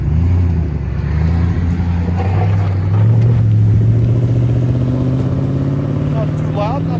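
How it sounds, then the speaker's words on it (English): Close by, a 2014 Toyota Tundra 5.7L V8 with a Dirty Deeds exhaust revs. Its deep harmonic engine note climbs and holds loud, with a voice faintly mixed underneath. "Toyota Tundra with Dirty Deeds exhaust."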